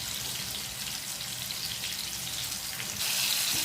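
Konem fish frying in oil in a pan, giving a steady, dense hiss and crackle close by with no pause, growing a little louder near the end, and no voices.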